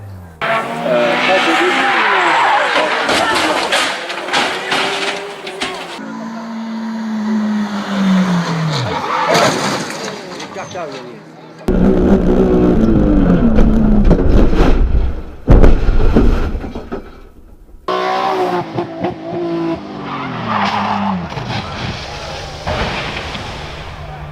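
Circuit and rally racing cars, including a Seat Leon that half-spins, roar past loudly in several cuts, with revving engines and screeching tyre squeals.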